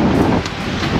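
Strong wind at sea buffets a sailboat close to the Corsican coast, a steady loud rushing roar with gusty swells throughout and no voices.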